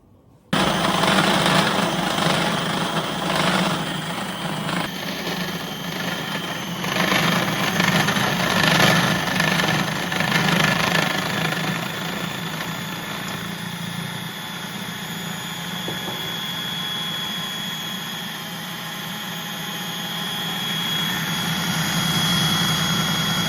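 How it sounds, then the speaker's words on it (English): A blender runs continuously and loudly, whirring steadily as it purees lectin-free chocolate ingredients with melted coconut butter, the motor pitch shifting slightly as the mixture turns creamy. "So I'll blend all that up"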